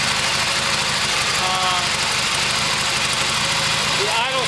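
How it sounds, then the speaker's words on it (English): A home-made 1972 Harley XLH motorcycle engine with a faulty, clogged carburetor runs rough and steady, a close, loud uneven rumble with knocking pulses and someone talking over it. "Alright, so it does run. Doesn't run very well because the carburetor is messed up."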